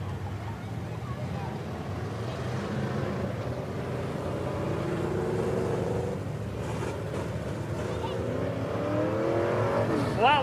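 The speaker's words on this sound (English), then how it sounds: "the next group of cars rolling out on to the backstretch for heat race number 3" Midwest Modified race cars roll out for a heat race at Springfield Raceway, a dirt oval, with a continuous, layered engine rumble that builds gradually as several cars drone together at a moderate distance.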